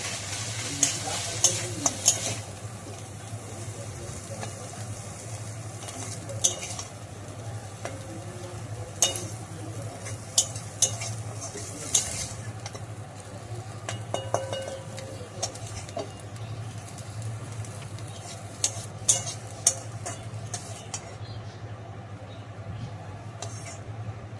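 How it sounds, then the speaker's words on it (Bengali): Fried greens (shak bhaja) are stirred in a kadai, a steady sizzle under repeated scraping and clinking of the spatula against the metal, close and continuous, with only a little faint background noise. "শাক ভাজাটা এবার তুলে নেব আমি"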